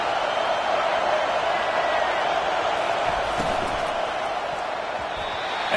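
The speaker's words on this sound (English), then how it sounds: "Here comes this home crowd as the defense tries to get off the field on 3rd down." Home crowd in a simulated football video game roars steadily as the defense tries to get off the field on third down, a dense, continuous wash of cheering throughout.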